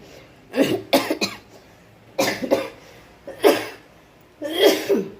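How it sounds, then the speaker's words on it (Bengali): A person coughs persistently in several harsh bursts, each a cluster of two or three rough coughs separated by short pauses, loud and close. "কাশি আর কমছে না"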